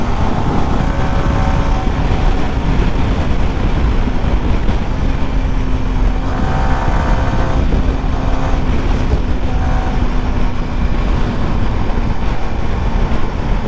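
A Yamaha R15M motorcycle accelerating hard, its loud, steady engine roar and road rumble filling the whole stretch with rising tonal pulls, no talking over it.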